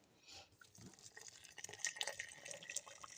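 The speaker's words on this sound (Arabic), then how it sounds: "هنحط له بقى ميه السخنه بتاعته" Hot water is poured into a dish in a home kitchen, a soft, faint trickle and splash with a few drips, heard quietly without talk.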